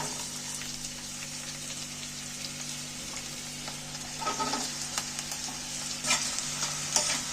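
Chopped onions drop into hot oil and fry, giving a soft steady sizzle with a low hum in the background, then a few louder bursts of crackle and scraping as they are stirred.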